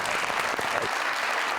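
Audience applause fills a talk-show studio in a short, steady burst of dense clapping that carries at an even level throughout.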